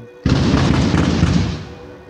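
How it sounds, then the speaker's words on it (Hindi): A loud firecracker bomb bursts beside a temple in Thriprayar, Kerala, with a heavy boom that rumbles on for about a second before fading. "मंदिर के साइड में बार बार बम फोड़ जा रहे हैं"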